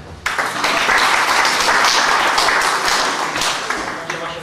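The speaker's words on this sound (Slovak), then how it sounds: "Potlesk." Applause at a Slovak school graduation-party magic show, a dense sustained burst of clapping from the audience lasting several seconds before easing slightly.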